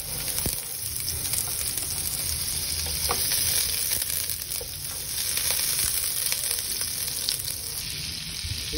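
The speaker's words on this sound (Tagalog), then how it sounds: "fry the egg first" An egg fries in a hot pan with butter, giving a loud, continuous crackling sizzle with scattered pops and spits, close up and uninterrupted throughout.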